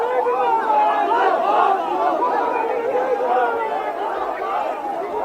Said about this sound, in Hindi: कुछ नारेबाजी तो हो रही है वहां पर